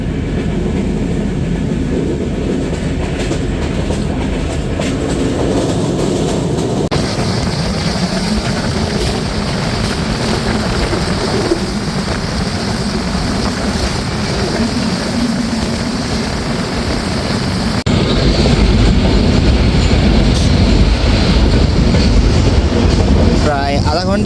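The Drutojan Express from Dhaka to Natore rumbles steadily at night, a loud continuous roar of wheels and carriage noise that swells louder in the final stretch, heard from on board.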